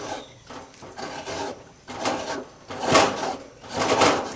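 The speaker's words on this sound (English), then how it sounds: "we're just scraping the meat on a mature coconut" Mature coconut meat is scraped out by hand for old-style coconut milk, with repeated rasping strokes in an uneven rhythm, close and moderately loud, growing louder toward the end.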